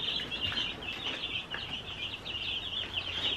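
Meat bird chicks kept in a brooder peep continuously, a dense high chirping chorus with small clucks, steady and fairly near with no talk.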